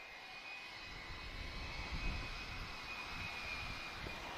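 An aircraft engine at Lisbon Airport, heard as a faint, steady distant roar with a thin whine, swelling slightly midway, with no talk.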